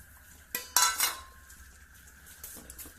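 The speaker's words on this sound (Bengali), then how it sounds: "এবার আমাদের আলু কাবলিটা মেখে নেব" A utensil clinks and scrapes against a bowl while aloo kabli is mixed with tomato, green chilli and coriander, with a few sharp knocks near the start and softer stirring after.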